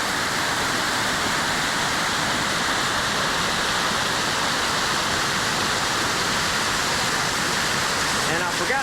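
Spruce Flats Falls pours in a constant loud rush of falling water, a dense unbroken roar heard from close by for several seconds.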